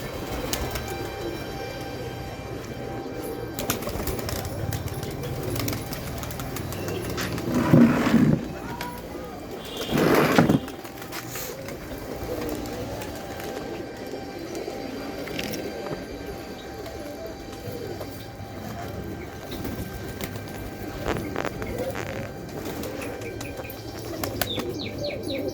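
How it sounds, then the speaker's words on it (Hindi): Pigeons coo softly among other chirping birds, with a couple of brief bursts of wing flapping close by and a person talking at times over the steady outdoor background. "चिड़िया हैं और तोते हैं।"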